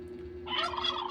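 A single turkey gobble rings out, a quick warbling burst heard alone against a quiet background hum.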